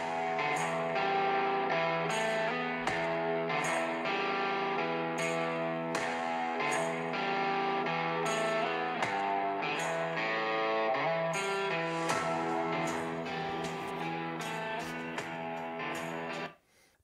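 Music plays through the downward-firing speakers of a Lenovo Legion 7 laptop at 50% volume, a steady rhythmic track with clear beats and sustained tones, cutting off abruptly at the end.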